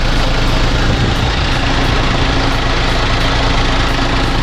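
A 1996 Mitsubishi L300 van engine idles close by after injection pump repair, a steady rumbling, continuous low hum with a faint periodic pulse and no voices.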